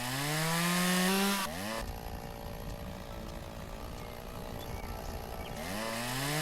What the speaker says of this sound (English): Don't walk up on a guy when he's got a chainsaw.